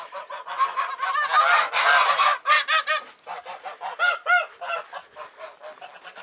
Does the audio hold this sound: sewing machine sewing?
no